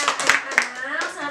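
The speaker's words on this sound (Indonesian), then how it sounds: "Kasih tepuk tangan lagi untuk kelompok 1." A classroom of students gives a brief round of clapping for a discussion group, a few sharp hand claps close by under ongoing talk.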